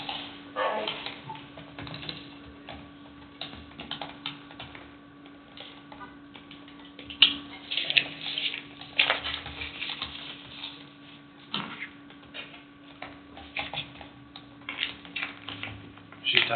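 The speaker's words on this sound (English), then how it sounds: "She's typing." Keyboard typing in a meeting room: soft, irregular clicks and taps continue steadily at low level, with occasional louder keystrokes and background murmur.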